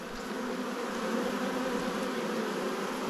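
Honey bees buzz in a dense, continuous drone during a transfer from a Langstroth hive to a top bar hive, close and steady with no talking.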